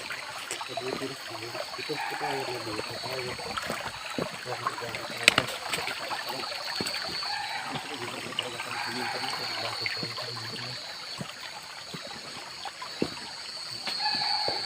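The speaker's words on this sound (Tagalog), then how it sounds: "mayroong ilog dyan uh, maliit ito yung ano sapa" Water trickles and babbles steadily from a small creek on a mountain, with people talking faintly in the background throughout.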